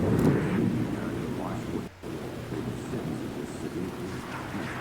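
Steady rain hisses in the video game Alan Wake II, with a deep rumble of thunder rolling beneath it. The rain is broken only by a brief drop near the middle, and a voice can be heard faintly under the storm.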